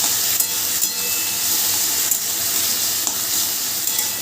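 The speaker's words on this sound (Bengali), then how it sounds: "যতক্ষণ কচুরলতিটা ভাজা হচ্ছে" Kochur loti, taro stolons seasoned with turmeric and salt, frying in a pan with a continuous even sizzle and a few faint clicks of stirring, no voices.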